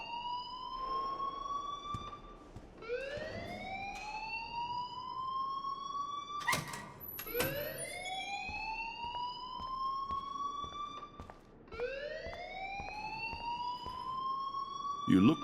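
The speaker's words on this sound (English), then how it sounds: "please turn off that alarm since that's your job." A school alarm in the video game Life Is Strange wails in rising electronic sweeps that repeat roughly every four seconds, loud and insistent throughout.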